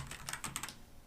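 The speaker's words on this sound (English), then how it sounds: "By the way, I love the clicky keys." Several crisp, clicky key presses on a Teenage Engineering KOii sampler tap out in a quick, uneven rhythm, close and faint with no talking.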